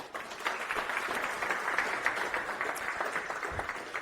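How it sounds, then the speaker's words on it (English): A conference audience gives a speaker a round of applause at a Debian event in Toulouse: a steady, dense wash of many hands clapping, fairly faint and distant, with no talking. "Round of applause, please."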